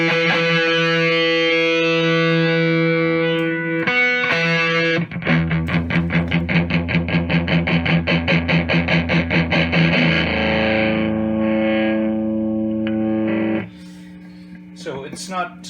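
A distorted electric guitar through The Varmint distortion pedal plays sustained chords, then a fast, steady run of repeated picked notes with a gritty, saturated tone, ending in a held chord.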